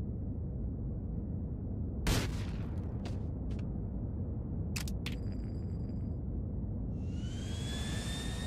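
A plane's engine roars steadily throughout in a GTA video game, with sharp cracks and short bursts cutting through partway, and a rising whine near the end.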